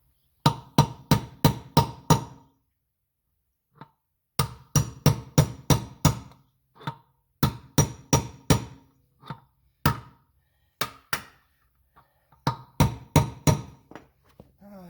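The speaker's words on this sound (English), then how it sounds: "Then I'm going to go get a driver and drive that out through the other side. The seal will come with it." Repeated hammer blows drive a trailer wheel bearing and seal out through a hub with a driver and socket extension, landing in fast bursts of five to eight sharp, loud metallic strikes separated by short pauses.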